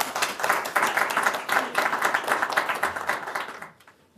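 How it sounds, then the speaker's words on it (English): Audience applause in a lecture hall at an academic event on foreign investment in Cuba, steady and close for a few seconds, then fading out quickly near the end. "Can we give him a round of applause?"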